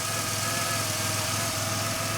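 A warmed-up Ford Ranger engine, with a leaking radiator patched with super glue, runs at a steady idle. It is a continuous, even mechanical hum with no talking.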